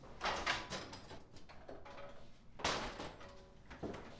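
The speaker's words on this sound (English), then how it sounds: "Close that door." A door is pushed shut indoors, giving a moderate thud with a short rattle, set among quiet room noise and shuffling.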